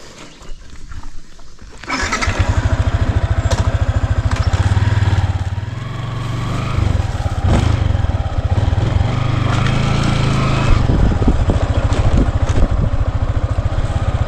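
A motorcycle engine starts up loudly after a quiet moment, then roars and putters nearby with a steady pulsing drone that rises and falls as it passes, with no talking.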